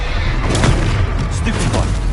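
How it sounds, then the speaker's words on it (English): A Confringo fire spell bursts during Hogwarts Legacy gameplay, a loud booming blast with crackling fiery bursts filling a dense, noisy battle mix, with a second thump following shortly after. "Confringo!"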